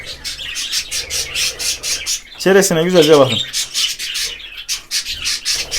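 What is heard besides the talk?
budgerigar chirping and squawking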